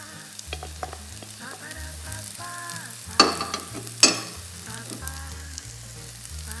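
Tempeh fries in a pan for Indonesian arem-arem, a steady close sizzle with a couple of sharper spitting bursts while music plays underneath.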